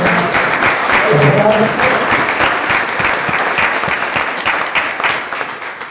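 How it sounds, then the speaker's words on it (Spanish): A courtroom-seminar audience applauds the public defenders, a loud, dense burst of clapping that swells early and slowly tapers over several seconds, with a speaking voice briefly under it. "Les pido un aplauso y muchas gracias"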